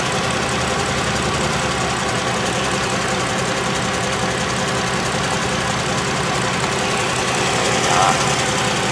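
A 2004 Chrysler Sebring convertible engine runs at a steady idle, a loud continuous hum and rumble heard up close without pause through the clip.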